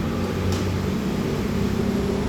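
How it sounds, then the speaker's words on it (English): A bus pulling away outdoors, a steady low rumbling engine drone that holds throughout, close and fairly loud, with no voices over it. "Let's just wait for the bus to leave."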